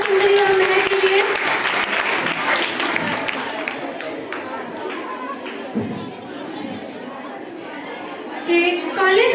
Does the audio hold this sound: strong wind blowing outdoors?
no